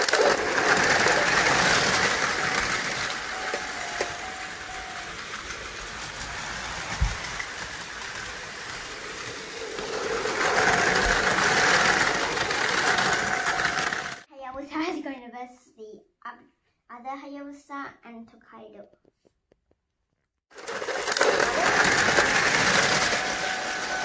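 Plarail E5 Hayabusa and E6 Komachi toy trains run with a continuous buzzing motor whirr and rattle. A voice talks during a pause in the running, then the whirring resumes.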